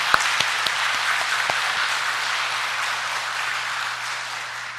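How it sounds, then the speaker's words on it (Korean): A congregation at a Korean Catholic Mass for the feast of Saint James applauds the priest, with a steady, full roomful of clapping and a few sharp, distinct claps early on, and no talking. "오늘도 한번 박수를 드리겠습니다."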